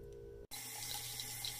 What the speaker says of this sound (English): So we got the water running